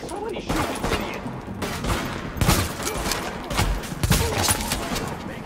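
Tom Clancy's The Division firefight: volleys of rifle and automatic gunfire crack in clustered bursts, close and loud, with a few voices talking beneath the shooting.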